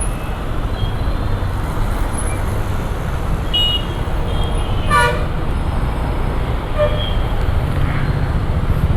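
Dense evening road traffic is heard from a motorcycle: a constant close wash of engine and road noise, with several short horn toots scattered throughout and one louder honk in the middle.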